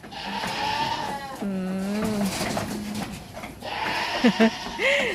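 Goats bleat at a goat farm in Na Kae, Nakhon Phanom, Thailand: several wavering bleats, close and loud, some overlapping, with people's voices faintly in the background.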